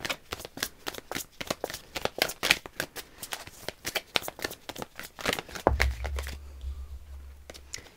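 Oracle cards are shuffled repeatedly, a fast run of crisp riffling slaps and flutters in irregular bursts, close and clear, with a low thump near the end.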